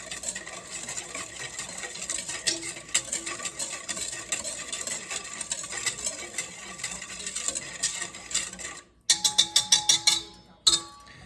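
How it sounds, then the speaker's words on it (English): A whisk stirs Buffalo wing sauce in a bowl with steady, busy clinking and scraping for about nine seconds, then a short pause and a few sharper, louder taps against the rim. "you just kind of whisk it all around"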